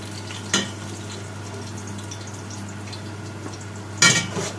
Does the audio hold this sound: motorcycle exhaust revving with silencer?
no